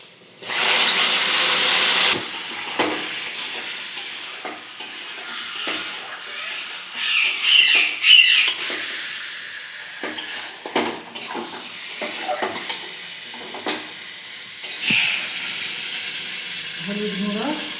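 Chicken pieces go into a hot pan with garlic paste and burst into a loud, close sizzle, then settle into steady frying broken by scraping stirs and clatter.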